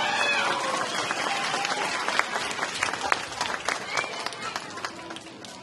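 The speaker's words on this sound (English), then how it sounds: "give it a round of applause" Steady applause from a large crowd at a spring dance recital, dense clapping sustained throughout with a few louder claps standing out.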